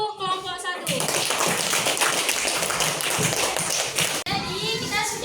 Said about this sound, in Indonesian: Dan tepuk tangan untuk kelompok 1.